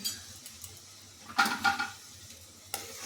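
Sugar melts in a frying pan with a faint sizzle. A few quick spatula scrapes and stirs rise out of a mostly quiet background, close by and without any voices.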